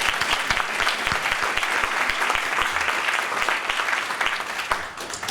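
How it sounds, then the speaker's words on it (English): Steady audience applause at a Democracy In Action award ceremony, a dense wash of many hands clapping at moderate loudness, easing slightly near the end with no speech. "Now we can applaud."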